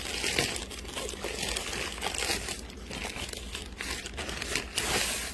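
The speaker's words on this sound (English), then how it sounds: "I'm just going to pull out one, and it is in its own plastic bag." A plastic bag crinkles steadily and fairly loudly as an item of garden barrier netting is pulled out of an Amazon box, the rustling continuous with small crunchy bursts and no talking.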